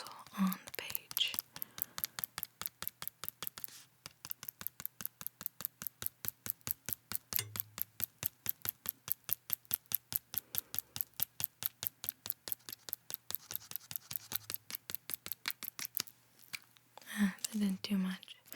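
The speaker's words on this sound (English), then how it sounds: "Stippling my pencil on the page." A pencil stipples on paper to add freckles in a soft-spoken sketching session, a long run of rapid, even, close taps with brief pauses and quiet whispered talk near the end.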